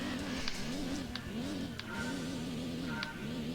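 Car engine in the Gran Turismo 2 racing video game: a thin, whiny, blender-like drone that wavers steadily in pitch, held at a low level throughout.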